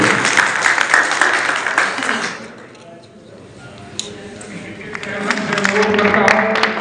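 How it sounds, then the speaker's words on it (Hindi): A crowd claps loudly at a welcome ceremony, the applause dies down for a moment, then swells again, with a voice speaking over it. "गोत्र के हमारे श्री जागरा लाडवा कंसोइया का जोरदार स्वागत शाल उड़ाकर तालियों के साथ स्वागत है।"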